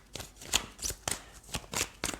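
Tarot cards are slid and laid down on a table, some covered by others, making a series of soft papery swishes and flicks in an irregular rhythm, close and fairly quiet.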